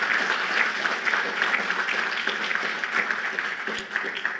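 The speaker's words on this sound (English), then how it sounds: "let's give him a round of applause as we recognize him along with his peers." An audience at a university presidential awards ceremony for civic life applauds an honoree, producing a dense, even wash of clapping from a large room that holds steady throughout at moderate volume.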